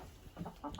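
Backyard chickens, including Leghorn and Americana mixes, give a few soft, short clucks at moderate distance in a quiet setting.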